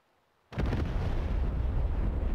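An AGM-88 missile strike destroys an SA-2 surface-to-air missile site in the DCS World combat flight game: sudden loud explosion bursting from silence into a sustained, rumbling roar.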